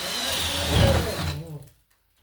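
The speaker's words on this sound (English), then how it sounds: "And we'll drill another." A power drill whirs steadily for over a second into a drop ceiling, then winds down and cuts off, leaving near silence.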